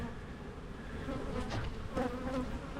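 Honeybees buzz steadily around an open hive during a frame inspection, a dense close drone that swells slightly louder toward the end.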